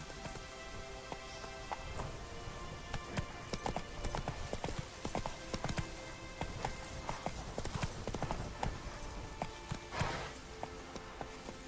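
A horse gallops in The Witcher 3 with a fast, continuous clip-clop of hooves that is close and fairly loud, mixed with jingling tack and a rain-like patter. A short whinny-like sound is heard near the end.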